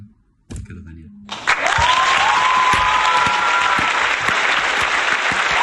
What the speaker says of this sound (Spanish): un fuerte aplauso para Carlos Daniel